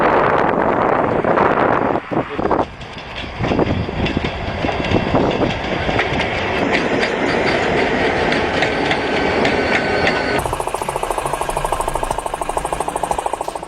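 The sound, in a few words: rail snowplow on old Vanderbilt tender pushing through snow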